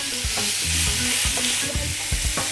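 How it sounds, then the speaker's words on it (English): Sliced steak for a Philly steak sandwich sizzles on a hot griddle, a steady bright frying hiss with scraping and stirring knocks from a spatula, close and without talk. "I'm going to cook it a little bit further with the cheese. Line up your steak, spread it out just a bit."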